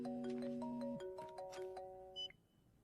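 A phone rings on an outgoing call, a bright electronic ringtone with stepped melodic tones that plays for about two seconds and then cuts off, followed by a short high beep.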